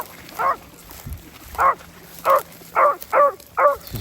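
Beagles give six distinct barks and bays in an irregular sequence at a field trial for 13-inch females held by the Fayette Beagle Club, moderately near over a quiet outdoor background.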